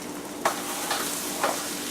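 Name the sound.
butter sizzling in frying pan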